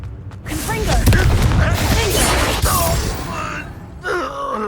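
A Confringo fire spell detonates in Hogwarts Legacy with a loud, rumbling explosive boom that rolls on for several seconds, with a groaning voice sound mixed in and a brief ringing tail at the end.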